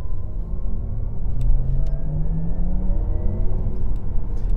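A Porsche Taycan electric car cruising at about 60 to 70 km/h in sport mode gives a faint rising electric whine over heavy road and tire rumble, steady and close, with no talking.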